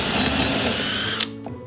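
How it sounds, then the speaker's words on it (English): A Tacklife power drill bores into redwood on normal drill mode, a loud, steady high-pitched whir with a grinding edge that cuts off abruptly, followed by a brief faint rattle. "So we're gonna put it on just normal drill."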